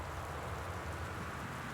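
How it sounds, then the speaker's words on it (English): Steady rain from the game Gone Home, a dense, even hiss of falling drops with a soft low rumble, continuous and moderately quiet with no voices. "do I need to tone down the rain a little bit more?"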